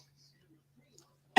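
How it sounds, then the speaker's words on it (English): A single abrupt cough bursts out at the very end after a stretch of near silence, loud and close. "I'm still a little coughing, I guess."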